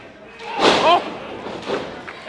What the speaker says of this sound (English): And what a missile drop kick into the turnbuckles.